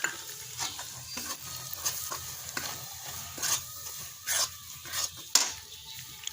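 Gram flour (besan) is stirred and roasted in a pan for besan laddu, with repeated scraping strokes of a spoon against the pan over a soft sizzle, close and fairly loud, with no talking.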